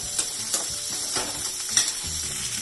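Green chilies and onions fry in oil with a continuous close sizzle, broken by a few light scrapes and clicks as they are stirred. No voices are heard.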